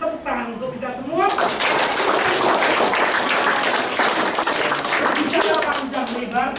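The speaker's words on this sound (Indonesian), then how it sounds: "Tepuk tangan untuk kita semua" School assembly audience clapping, a loud dense burst of many hands that swells in after a voice, holds steady for several seconds and tapers as talking resumes.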